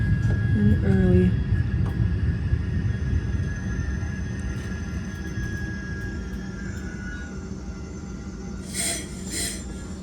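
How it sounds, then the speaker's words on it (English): Southbound Caltrain Limited Train 412 pulling into Hillsdale Station, a steady low rumble of the moving train with a long high whine, brief squeals early on and a faint chime near the end, heard from on board. "here we are pulling into the Hillsdale Station."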